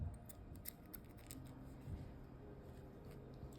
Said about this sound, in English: I have my black yarn and I just cut off a couple strings about this long.